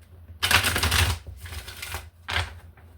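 Tarot cards are riffled and shuffled in three quick bursts, crisp and close, with short pauses between.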